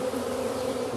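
Swarming honey bees drone in a thick, steady buzz with no pauses, many insects close together and loud, no voices over them.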